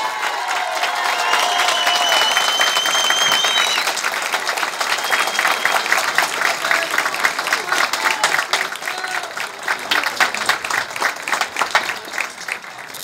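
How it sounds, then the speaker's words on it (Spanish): A large crowd at a campaign-closing political rally breaks into loud, sustained applause with some cheering, building into dense rhythmic clapping that carries on for many seconds with voices mixed in. "le vamos a brindar el aplauso a Juan Ramón Elizondo."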